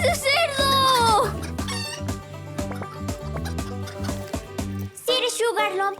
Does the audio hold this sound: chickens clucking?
yes